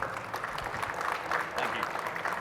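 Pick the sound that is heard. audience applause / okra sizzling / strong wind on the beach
audience applause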